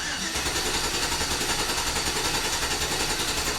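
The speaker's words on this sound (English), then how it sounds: "Just pay attention to how the engine sounds." A Chevrolet Silverado engine, one with cylinder misfire and EVAP leak codes, idles steadily up close with a constant, even rumble and fast regular pulsing throughout, with no other sounds.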